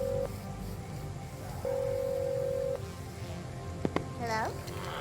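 A telephone number is dialed in the video game Encodya: two sustained tones and then a few short beeps, with a voice talking faintly over the end.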